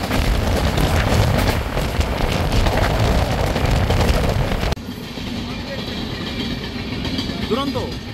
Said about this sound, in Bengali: পুরী থেকে শালিমারের উদ্দেশ্যে রওনা দিল ধৌলি সুপারফাস্ট এক্সপ্রেস।